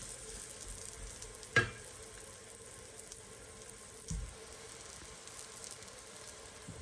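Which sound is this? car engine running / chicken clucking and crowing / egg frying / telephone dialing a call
egg frying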